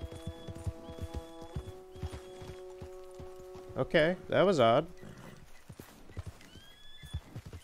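Clip-clop of a horse's hooves while riding in Red Dead Redemption II, a steady rhythmic trot under music with a horse whinnying loudly midway, while someone speaks briefly.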